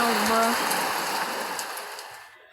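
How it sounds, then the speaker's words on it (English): Steady hiss of rain in the video game Ao Oni 2, loud at first and slowly fading out, with a brief tonal chirp early on. "I had enough of your raining sounds"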